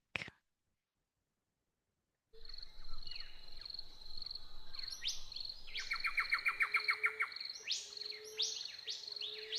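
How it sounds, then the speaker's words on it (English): Birds sing outdoors in a varied chorus of clear whistles, rapid trills and chirps, some near and bright, repeating in bursts over faint background, after a brief sound and a moment of silence at the start. "just letting the bird song settle you"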